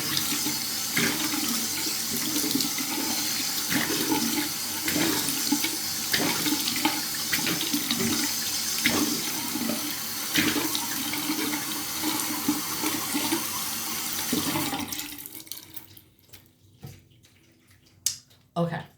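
A tap runs close by, a loud steady gush of water into a sink during face washing, with small splashes throughout, then stops abruptly near the end, leaving a few faint drips and handling noises.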